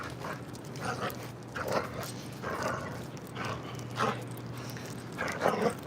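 A pet dog barks in short yips and whimpers, repeated in uneven bursts over several seconds, close and fairly loud against a steady indoor background hum.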